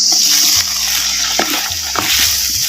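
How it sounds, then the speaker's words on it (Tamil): Chopped tomatoes fry in hot oil for a village-style fish gravy, giving a loud, close, steady sizzle broken by a couple of quick stirring scrapes. "சேர்த்த தக்காளி பழத்தை நல்லா வதக்கி விட்டு"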